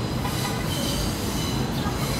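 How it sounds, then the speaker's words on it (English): A subway train rumbles past on rails near a city bus hub, a loud continuous roar with faint wheel squeal filling the whole stretch. "I had a feeling that was the subway"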